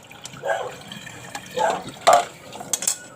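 Cold water splashes and trickles over freshly boiled eggs in a kitchen, arriving in several short uneven bursts and drips, close by.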